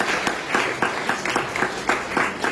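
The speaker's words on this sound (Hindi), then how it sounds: "इस पे भी तालियां" A college audience claps in a brief round of applause, a steady patter of hands at moderate level.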